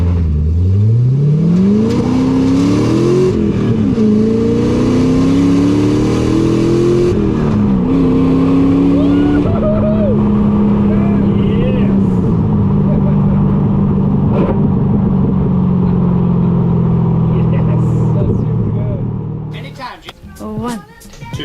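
Custom 1963 Corvette C2 split-window with an all-tube chassis, engine revving up loudly through rising gears and then cruising at a steady deep drone from inside the car, with people talking over it.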